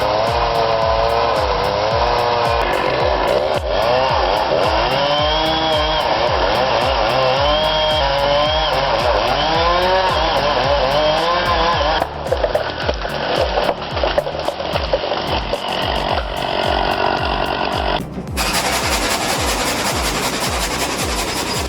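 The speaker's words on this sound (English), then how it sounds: "Old bandsaw, still deadly smooth." Vintage Pirna sawmill bandsaw with heavy chain drive feed cuts through timber, a loud, continuous mechanical drone with rhythmic pulsing and rising, whining pitch sweeps, close up and without talk.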